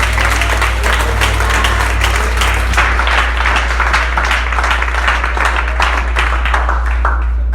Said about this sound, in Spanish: Dele un aplauso maravilloso al Señor.